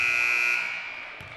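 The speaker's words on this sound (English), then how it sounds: "As the buzzer sounds" A basketball game buzzer sounds in a high school gym, a loud, sustained electronic tone that fades out over about a second.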